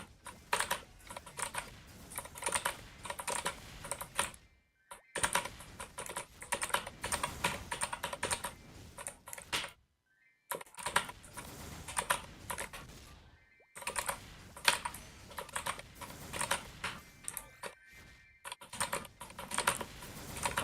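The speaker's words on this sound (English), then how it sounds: "pressing a lot of keys is not a problem for me" Rapid, busy clatter of computer keyboard keys spammed during PC gaming, near and steady in bursts with a few short pauses, no talking.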